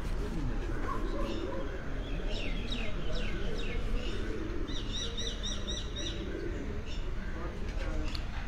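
Pigeons on a rooftop loft in Chak Shahzad coo and chirp in short repeated bursts, moderately close, over steady outdoor background noise.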